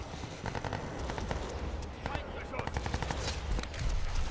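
Dense, rapid automatic gunfire rattles in continuous bursts during a firefight in Crysis 2, close and loud, with voices heard over the shooting.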